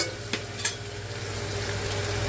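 Ginger-garlic paste fries in a pressure cooker for chicken biryani, with a steady close sizzle and a couple of quick stirring scrapes at the start, and no talk.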